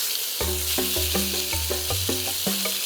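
Steak searing in a pan, its crust browning before the flip, gives a steady, bright sizzle that runs the whole time beneath loud, stepping, tonal musical notes.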